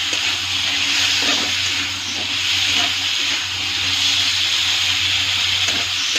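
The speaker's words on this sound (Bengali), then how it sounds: "লবণটা দিয়ে একটু ভাজা ভাজা করে এর মধ্যে কাঁচা আলুটা ছেড়ে দেবো।" Raw potatoes frying in a pan with salt give a steady, close hiss and sizzle that runs unbroken from start to finish, with no talking.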